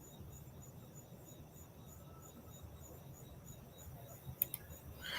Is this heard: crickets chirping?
yes